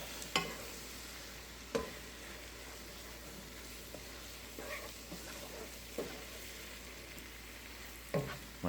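Spinach wilting in a hot pan, a steady soft sizzle with occasional sharper crackles and stirring scrapes, close by and fairly quiet, with no talking.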